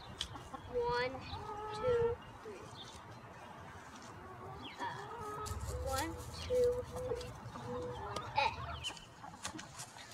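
Several chickens cluck and murmur softly nearby in scattered bursts, while a person counts aloud over them.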